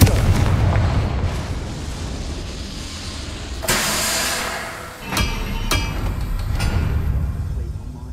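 Confringo fire spell in the Hogwarts Legacy video game bursting into blasts, with a heavy rumbling explosion midway followed by sharp cracking impacts and debris over ongoing game ambience.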